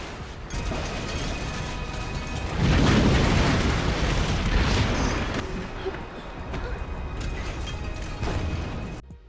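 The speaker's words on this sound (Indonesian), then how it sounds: "Morgan menembaki pom bensin itu hingga pom bensin itu meledak dan menghancurkan tempat itu" Gas station blowing up in an action film, a heavy explosive boom swelling into a sustained roaring rumble that lingers and slowly fades, with a loud mix throughout.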